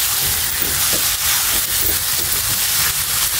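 Beef liver frying in a pan while being stirred, a loud close sizzling hiss with a steady roar of steam, no pauses.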